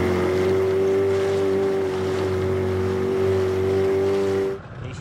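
Motor dinghy tender arriving on the water while sailing in Thailand, a loud steady outboard drone with a strong tone that holds, then cuts off near the end.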